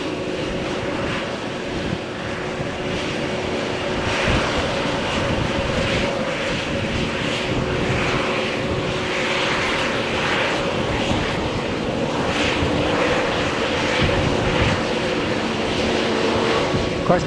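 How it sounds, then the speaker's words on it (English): An Aer Lingus Airbus A330 airliner approaches and lands at Malaga Airport on a stormy morning. A steady, broad engine roar holds at an even level throughout, with wind and rain noise mixed in. "Der Aer Lingus Flug A330 ist jetzt im Anflug und landet gleich"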